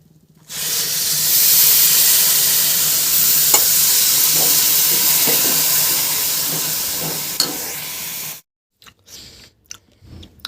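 A mixture of coconut powder, milk and ghee stirred in a pan, a loud steady sizzling hiss with spoon scrapes and clinks, close for about eight seconds before stopping into near silence.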